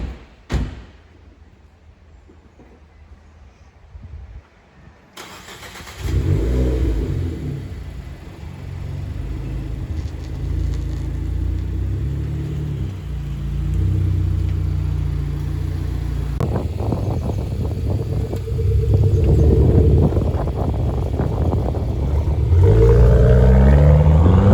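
A door thuds shut, then a Renault Clio 4 RS Edition GP Monaco engine starts and rumbles loudly, revving higher as the car pulls away and accelerates.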